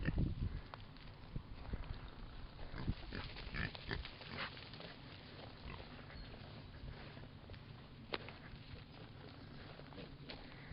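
Pigs move about in a hedge-fenced enclosure, shuffling and snuffling with soft grunts and scattered footfalls against a steady outdoor background, continuous and fairly faint.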